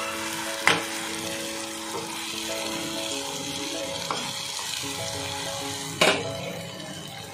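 Boiled chicken pieces sizzle and fry steadily in a restaurant-style curry gravy in a pan, with a few sharp stirring clacks against the pan, close up and with no talking.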